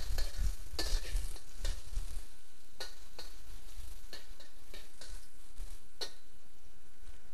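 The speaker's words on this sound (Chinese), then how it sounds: "爆香姜丝" Shredded ginger stir-fries in two tablespoons of hot salad oil in a wok, giving a steady sizzle broken by sharp, repeated clicks and scrapes of the spatula stirring at close range.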